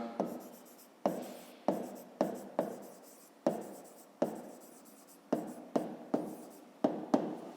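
Pen writing triangle vertex names by hand on paper, heard as about fourteen short, close scratchy strokes in an irregular rhythm with brief pauses between, and no speech.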